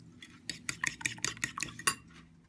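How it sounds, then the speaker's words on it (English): Two eggs are whisked in a bowl, giving a quick run of about a dozen close, sharp clinks of utensil on the bowl, alone and fairly quiet. "take 2 eggs and give them a good whisk"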